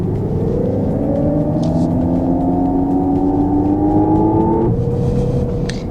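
Artificial engine sound played by an XPENG P7 electric car at about 30 km/h, a steady synthetic hum with rising tones that climb smoothly for several seconds, then drop and level off, loud and close with no talk.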